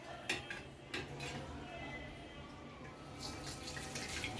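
Water from boiled leaves pours and splashes into a cooking pot during homemade disinfectant preparation, with clinks of kitchenware against the pot and a steady trickle throughout.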